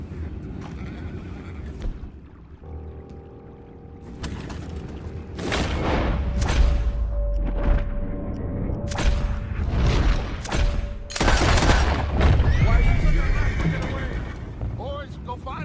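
Horses in Red Dead Redemption 2 neigh and whinny amid clip-clopping hooves and thuds, loud and close, with characters talking over and between the sounds.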